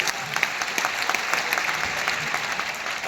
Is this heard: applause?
yes